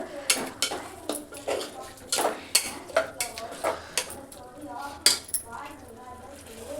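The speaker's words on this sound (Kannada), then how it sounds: "ಈಗ ಟೊಮೆಟೊನು ಎಲ್ಲ ಒಂದು ಸಲ ಮಿಕ್ಸ್ ಮಾಡ್ಕೋತೀನಿ." A spoon stirring tomato paste into chopped dill greens in a pan for dill pulao: repeated close metallic scrapes and clinks in an uneven rhythm against a faint background sizzle.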